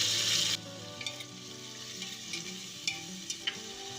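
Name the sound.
potatoes, capsicum, tomato, green chillies frying in pan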